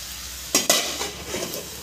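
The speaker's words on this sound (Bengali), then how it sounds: "সব কিছু দিয়ে এবার কিন্তু আমি ভালো করে কষিয়ে আনবো" Spices with turmeric powder being sautéed in a pan for a pumpkin and dried-fish dish, a faint background sizzle broken by two sharp stirring scrapes and a few softer spoon clinks.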